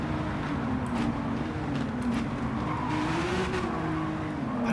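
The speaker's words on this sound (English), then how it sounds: "We actually hit the rev limiter." Engine-swapped VW Polo GTI in the Gran Turismo 7 racing game, held at the rev limiter at high speed, giving a steady, sustained high-pitched engine drone with no talk.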